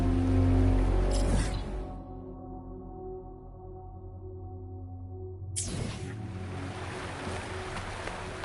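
Rushing waterfall in the video game Wuthering Waves, a broad wash of falling water that swells in, fades under a steady musical backdrop, then surges back loud and continuous.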